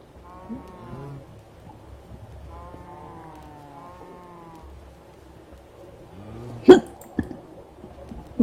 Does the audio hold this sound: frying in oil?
no